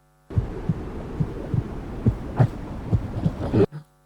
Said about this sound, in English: The mother heartbeat, how beautiful is that?